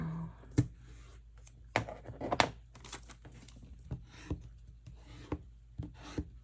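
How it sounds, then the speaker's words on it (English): Glued paper for a photo wallet being burnished to make it stick, heard as quiet close rubbing and scraping strokes with irregular soft knocks. "And I like to burnish it, so I know I got it stuck pretty good."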